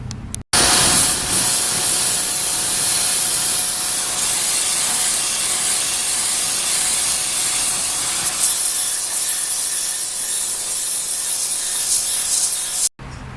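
A cheap pressure washer blasts water across the underside of a Suzuki Samurai, a loud, continuous hissing roar close to the mic that runs steadily with a brief cutoff at the start and end.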